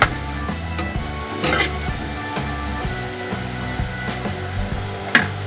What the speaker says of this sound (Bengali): জল দিয়ে মশলাটা কষাতে হবে।